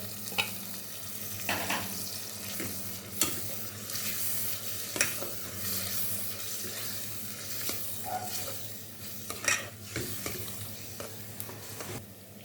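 Chicken fries in a masala paste with turmeric, a low steady sizzle broken by repeated scraping and knocking of a spoon against the pan at irregular intervals, fairly quiet overall.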